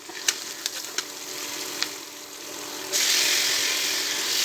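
Chicken liver frying in hot oil with curry leaves, a steady hissing sizzle with a few faint clicks, then a sudden louder, brighter burst of sizzling that continues to the end.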